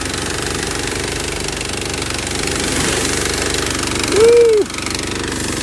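A water trailer pump engine running at about quarter idle gives a steady, close mechanical drone with a knocking rhythm and rushing water noise, briefly swelling near the end with a rising whine.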